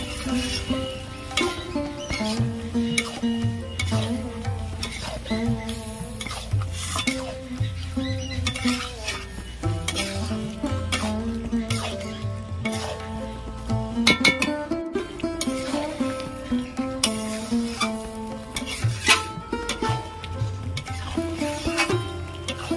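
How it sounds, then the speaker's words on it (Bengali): Boiled peas stir-fried in goat fat in a wok, with constant sizzling and repeated scraping and stirring of a utensil against the pan, continuing steadily over a long stretch without speech. "এবার সিদ্ধ করে রাখা মটরটা ঢেলে দেব। মটর কিছুক্ষণ আবার আমি কষিয়ে নেব।"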